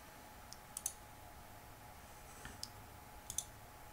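Someone types a passphrase on a computer keyboard: a few faint, scattered key clicks come in small clusters against a quiet room hum.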